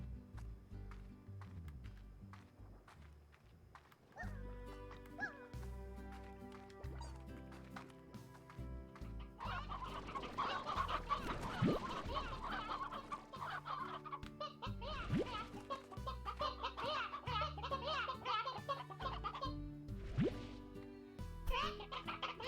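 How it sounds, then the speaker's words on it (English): Chickens cluck in the Slime Rancher video game, repeated clucks and squawks close by over busy, layered game sounds with no one talking. "we'll grab some extra chickens that I know I've got free range over here"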